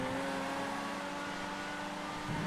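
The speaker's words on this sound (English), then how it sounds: "Is this the same engine sound that the GP1 has in vanilla GTA?" Engine of the GP1 supercar in the racing game GTA FiveM, a steady, sustained revving drone with clear harmonic tones, held continuously and close, without talk.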